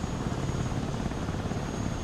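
Helicopter in the real-time strategy game Broken Arrow, a continuous close rotor drone with steady chopping thrum and a faint high whine, no voices present.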